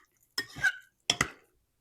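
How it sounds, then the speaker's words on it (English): Tongs mixing chicken and shrimp alfredo in a pan: two short clusters of scraping, clinking metal-on-pan strokes separated by a brief pause, close up with no talk. "now I'm going to take my tongs here, just kind of mix it all around"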